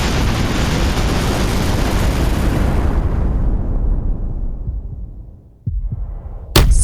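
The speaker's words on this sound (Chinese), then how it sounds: "不对，这心跳声如此强横，" A heartbeat sound effect from a fantasy drama: a deep, heavy rumble fades away, followed by a few low thumps and a sharp hit at the end, with no speech.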